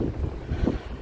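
Very strong wind gusting during a storm that tore off a neighbouring roof, a loud, dense roar buffeting the microphone in a brief burst.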